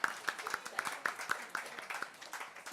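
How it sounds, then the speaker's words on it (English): A small audience claps for a volunteer called up on stage at a Harry Potter and the Philosopher's Stone 15th-anniversary fan event, giving light, scattered, rhythmic applause that stays at a modest level throughout. "Round of applause for our Slytherin."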